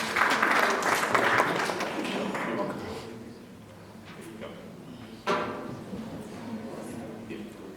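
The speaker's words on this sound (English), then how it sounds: "A round of applause for her, please." Conference audience applause at a local government conference session, a dense burst of clapping that fades over a few seconds, then a second smaller swell of clapping under a speaker's voice.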